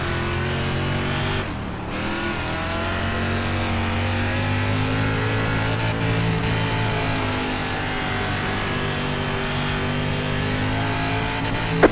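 Dirt race car engine from the iRacing video game, likely a 358 Modified or UMP Modified on a dirt oval, droning steadily at high revs with a brief dip in pitch early on, loud and continuous with no talk.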